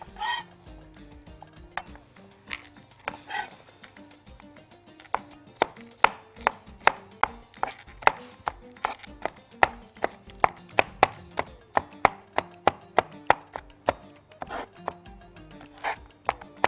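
A garlic clove chopped with a knife on a cutting board, slow taps at first and then a fast, steady run of sharp close knocks, with no speech.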